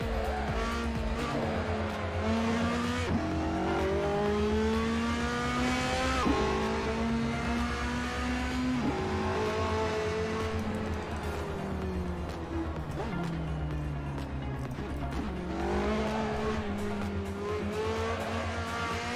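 A race car in an Assetto Corsa / iRacing sim howls through repeated upshifts and downshifts, engine pitch climbing and dropping in steady cycles, with occasional tire squeal and other cars nearby, loud and continuous.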